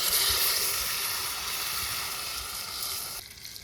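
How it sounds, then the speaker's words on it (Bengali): Marinated mutton hits a hot pan of fried onions, and a loud hiss and sizzle builds quickly, then gradually settles into a softer crackle. "এখনই মাখানো মাংস ঢেলে দেব।"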